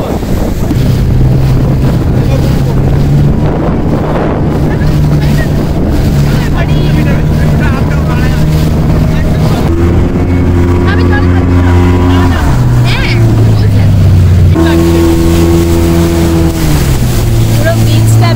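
A speedboat runs along the sea off Mandarmani beach: a steady engine drone with shifting pitch, heavy wind buffeting the microphone and water rushing beneath, while people chat loudly aboard throughout.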